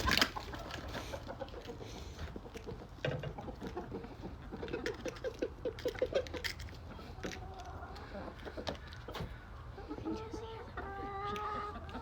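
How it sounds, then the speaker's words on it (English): A backyard flock of chickens, including a Copper Maran and an Easter Egger, clucks and murmurs nearby while being fed eggshells, with soft scratchy pecking sounds and a few louder calls toward the end. "We're going to feed the chickens some eggshells from the breakfast that I made this morning."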